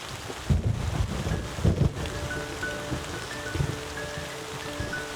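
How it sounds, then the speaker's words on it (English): Wind-driven rain sweeps in across African savanna at the onset of the wet season, a steady broadband wash of falling drops and gusts with a few louder bursts of wind buffeting, with no voices. "Soon enough, following months of purgatory, the rains come."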